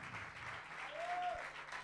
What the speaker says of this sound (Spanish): Un aplauso para Cami.